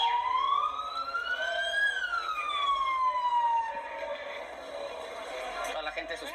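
Ambulance siren wailing as the vehicle arrives at an earthquake scene in Mexico, its rising and falling tone loud and close at first, then partly masked by street noise and a talking voice.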